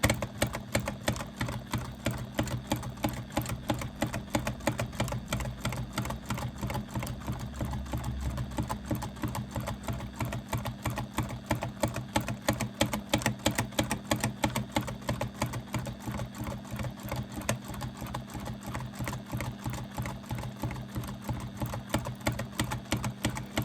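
A sewing machine runs nonstop during free motion quilting, its needle hammering out a fast, even rhythm of stitches. The sound stays steady and close throughout, with no pauses or talking.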